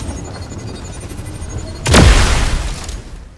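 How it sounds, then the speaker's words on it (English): A Plasma Cannon attack in the Roblox fighting game The Strongest Battlegrounds: a single loud, heavy blast with a falling, sweeping tail that cuts through a steady low background hum and fades over about a second. "The second one is Plasma Cannon."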